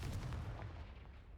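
A Confringo blasting spell from Hogwarts Legacy bursts in one heavy, booming explosion that rolls off and fades over about a second, with no talk.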